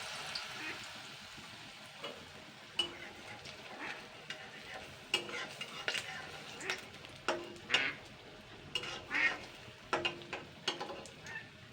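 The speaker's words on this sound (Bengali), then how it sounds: "এইভাবে কিন্তু আমি সব ভেজে নেবো উল্টে পাল্টে" Batter-coated water chestnut fritters fry in hot oil over a medium flame, with a steady soft sizzle broken by repeated clinks and scrapes as the pieces are turned and stirred, fairly quiet and close.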